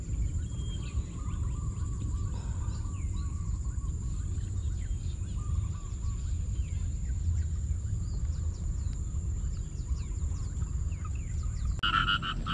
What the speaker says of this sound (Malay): Bunyi katak dekat belakang ni kuat tu.